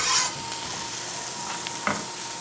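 Green onions for breakfast burritos hit a hot pan, sizzling and frying steadily up close, with a couple of short scraping stirs.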